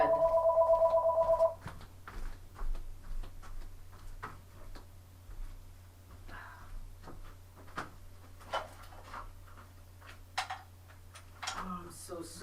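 A landline telephone rings with a loud electronic trill for about a second and a half, then stops; quiet rustling, clicks and handling noises follow as the phone is dealt with.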